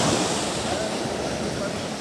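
Surf washes onto the beach at Palm Beach, Aruba, near a resort hotel, a continuous broad roar of breaking waves mixed with wind noise and no distinct voices.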